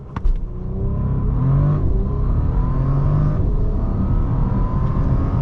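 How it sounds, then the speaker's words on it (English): Bentley W12 engine revving hard at launch and accelerating, heard from inside the cabin as a loud, steady low roar that builds and holds with no talk. "That W12 penetrating into the cabin."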